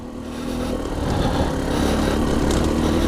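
2020 Husqvarna TE300i two-stroke dirt bike climbing uphill, its engine a steady, loud, close rasp that rises slightly in intensity over a few seconds.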